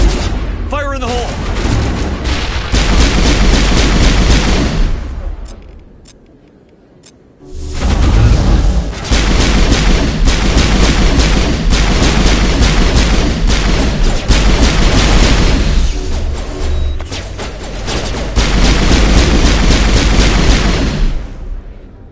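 Grenade blasts and gunfire in the video game Mass Effect, a loud, dense run of booms and shots that drops away briefly near the five-second mark, then resumes heavy and continuous, with voices shouting over the combat.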